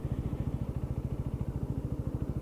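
A WK Scrambler 125cc motorcycle thrums steadily while being ridden, its single-cylinder engine pulsing in a fast, even beat, low and close against a bed of wind rumble.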